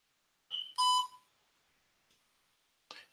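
Short electronic voicemail beeps on a phone, a tone burst then a louder bright beep near one second and a brief chirp near the end, faint and isolated against silence.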